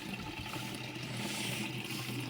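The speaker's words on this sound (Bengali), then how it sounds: "আমি জল ধরছি এখন," Water running from a public time-controlled tap into a container, a steady broadband splashing and trickling that continues without a break through the whole stretch.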